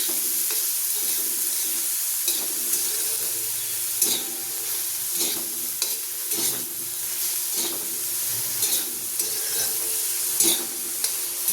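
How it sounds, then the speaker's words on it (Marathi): Dried bombil fish frying in oil on a tawa, giving a steady close sizzle and hiss broken by repeated scraping stirs. "मी तव्यावर आता हे बोंबील टाकून बोंबील असे छान तेलामध्ये परतवून घेते"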